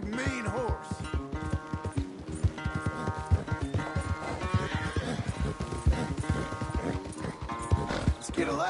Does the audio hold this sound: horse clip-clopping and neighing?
yes